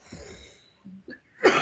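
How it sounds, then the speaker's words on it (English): A person gives a single sharp, harsh cough at the very end, close by, after a stretch of faint low murmuring. "No, I started coughing."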